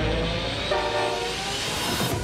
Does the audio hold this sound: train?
yes